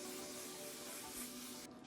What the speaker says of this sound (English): I'm gonna go ahead and set my face with All Nighter setting spray.